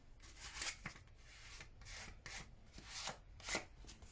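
Guitar frets sanded with 400 grit sandpaper, a dry rasping scrape in repeated strokes, close and fairly quiet, no talking.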